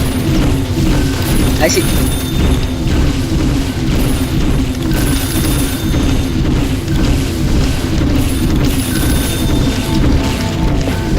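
Glass lawnmowers in the tower defense game Garden TD make a dense, continuous mechanical ratcheting and whirring clatter with repeated crashes, loud throughout, with brief talk over it.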